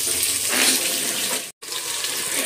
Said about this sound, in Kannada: ಈ ಟೊಮಟೊ 2 ತೊಳ್ಕೊಡಂಗೆ ತೊಳೆದು ಕಟ್ ಮಾಡಿ ಇದಕ್ಕೆ ಹಾಕಿ